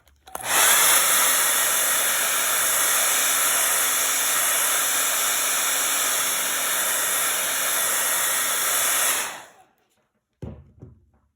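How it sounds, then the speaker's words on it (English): Hair dryer blowing paint dry on a canvas: a loud, steady whooshing roar runs unbroken for about nine seconds, then cuts off, leaving a brief quiet and a couple of faint handling knocks. "I'm gonna blow this dry because I want to rest my hand"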